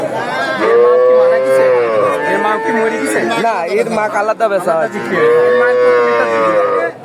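Cattle mooing at a livestock market for young heifers, loud drawn-out moos near the start and again near the end, with people talking and bargaining in the background between calls.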